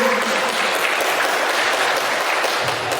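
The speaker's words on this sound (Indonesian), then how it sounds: "Tepuk tangan lagi buat Bapak Ibu." Teachers and educators in a training session applaud together, a loud, dense and continuous burst of clapping that fills the whole moment close to the listener, with no speech over it.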